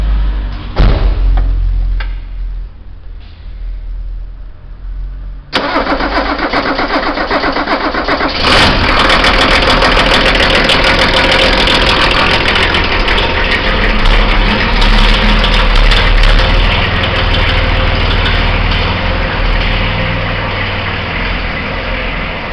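A car engine cranks and catches after its battery is connected, with a thud or door knock first, then settles into a loud, steady idle close by.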